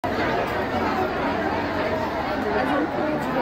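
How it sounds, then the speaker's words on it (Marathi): Dense crowd chatter fills a busy Ganesh temple, a steady babble of many overlapping voices close around with no pauses, loud and continuous throughout. "खूपच गर्दी आहे."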